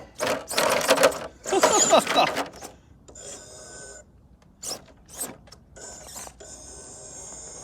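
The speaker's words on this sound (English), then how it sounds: "Let's see what the servo's got." A low-profile micro servo on a 1/16 RC crawler whirs in short bursts, with a couple of louder strained pushes early on, then lighter intermittent whines and clicks close by.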